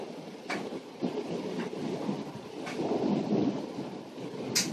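Thunder from a nearby lightning storm rolls and rumbles in a long, building swell, with sharp crackling bursts near the start and end over a steady rain background.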